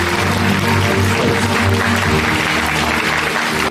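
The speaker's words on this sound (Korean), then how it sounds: "박수 한번 부탁드리겠습니다" Audience applause at a company year-end party for GA Korea, a steady wash of clapping filling a large hall from start to finish, with low music or room hum underneath and no talking.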